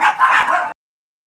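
A dog gives a loud, close burst of excited barking and yipping, about two-thirds of a second long, that then stops abruptly and leaves silence. No talk is heard over it.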